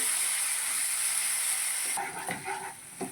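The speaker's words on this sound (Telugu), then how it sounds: "మిగిలినటువంటి టమాటా కూడా వేసేసుకొని చక్కగా దీన్ని వేయించుకుందామండి" Onion, curry leaves and tomato frying in a pan for Nellore-style gongura chicken curry: a hissing sizzle that drops in level partway through, followed by a few stirring scrapes.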